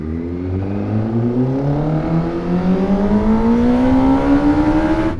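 An MV Agusta motorcycle engine revs up in one long smooth climb, its loud close whine rising steadily in pitch for about five seconds.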